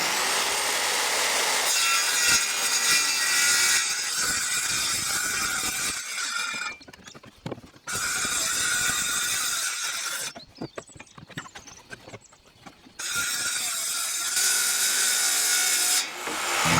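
A wooden decking board on a deck built on posts is ripped lengthwise with a power saw. Loud, close sawing runs in long steady passes broken by brief pauses, with rattles and knocks in between.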